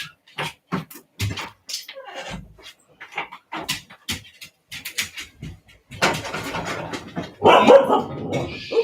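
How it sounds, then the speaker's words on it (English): A dog in a home kitchen barks in a series of short, sharp yelps spread across the stretch, growing louder and denser toward the end, with a whimpering edge at times. "Ooh, there goes the dog."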